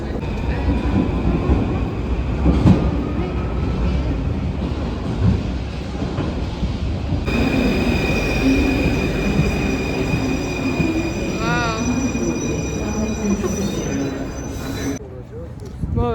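A Paris metro train runs on its rails with a loud, continuous rumble and clatter, then high steady tones and squeals as it moves through the tunnel. Voices talk faintly underneath.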